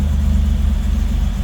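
A 1985 Buick Grand National's engine runs at a steady idle close by, a loud, deep, evenly pulsing rumble with no other sounds.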